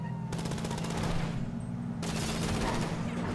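Rapid automatic gunfire in the video game GTA V, dense bursts of rattling shots that stop briefly and then resume, loud and continuous with faint voices beneath.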